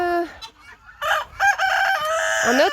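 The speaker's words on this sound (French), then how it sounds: "Donc voilà les poulets." Chickens and a rooster crowing nearby, with clucking calls and overlapping crows in quick succession, loud and close.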